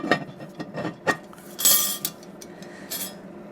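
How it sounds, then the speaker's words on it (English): The lid of a Pit Boss Navigator smoker is handled and set closed, giving a few sharp metallic clanks and clinks with brief scraping in between, close and clear, no talking. "so now I cover with the lid"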